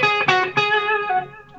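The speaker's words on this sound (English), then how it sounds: "if you're playing with a clean channel, put a distortion pedal on and roll your volume back" An electric guitar plays on a clean amp channel through a distortion pedal with the guitar volume rolled back, and a few sustained chords ring with light grit and fade out.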